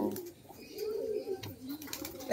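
Pigeons in a large rooftop flock of high-flyers coo softly at a middle distance, a low, continuous rolling murmur with gentle rises and dips.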